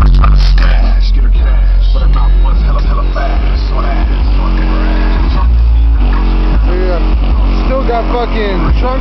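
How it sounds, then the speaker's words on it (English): Heavy subwoofer bass thumps continuously through a car with Dynamat installed, the trunk buzzing and rattling against it, loud and close, with people talking over it. "we'll turn it up and get out and see what the trunk rattle's about"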